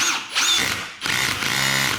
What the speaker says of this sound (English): You will tighten down your drill.